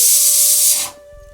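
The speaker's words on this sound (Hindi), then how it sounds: "फर्स्ट क्लास प्रेशर कुकर ने सीटी मार दी एक" A pressure cooker lets out one loud, close hissing whistle of escaping steam that holds steady and then cuts off sharply, leaving faint low thumps and clatter behind.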